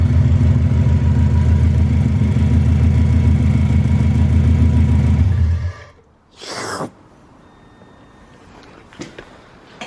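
Subaru engine idling with the middle exhaust section removed, a steady deep rumbling drone for several seconds before it is shut off, followed by a brief rustle and quiet clicks.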